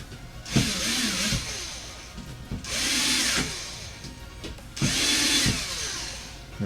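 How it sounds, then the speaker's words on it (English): A power drill whines in three separate bursts, spinning on briefly after each release, as it drives screws into the plastic parts of a Tamiya TT01 RC car kit, close and loud with short pauses between runs. "this particular drill, it kind of keeps spinning after you let go of the trigger"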